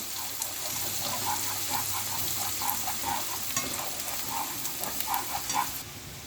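Dried shrimp sauté in hot oil for a crispy finish, giving a steady, close sizzle and crackle with light stirring scrapes throughout, no voices.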